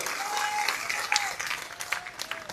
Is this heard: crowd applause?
yes